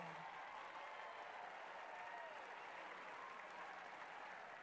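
Home crowd at a women's tennis final applauding steadily, a dense, even wash of clapping from a large arena audience that holds at a moderate, distant level throughout.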